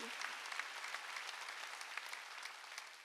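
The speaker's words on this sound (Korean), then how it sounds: "박수" Faint, steady applause from a church congregation at a Wednesday worship service, an even wash of many clapping hands heard from a distance.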